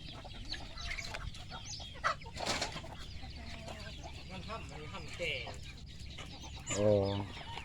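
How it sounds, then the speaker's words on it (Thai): Chickens clucking in a rice field, a steady scatter of clucks near and far, with a louder squawk toward the end and someone talking over them. "ไก่เพิ่นยังลายเด้อลายเติบแล้วสำนี่"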